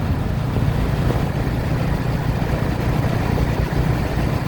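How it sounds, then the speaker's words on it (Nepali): A fully loaded tractor rumbles past close by on a road, its engine giving a continuous heavy, low drone at steady loudness throughout, with no voices. "यो हो नि त हाम्रो"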